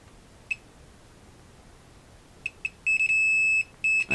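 A multimeter in continuity mode, probing connections on a drop-damaged motherboard, sounds a high, steady electronic tone in brief blips, then longer sustained beeps as contact holds, loud and close.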